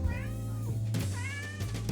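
A cat meows twice, clear and near, over the low steady hum of a sewing machine running in a home sewing space.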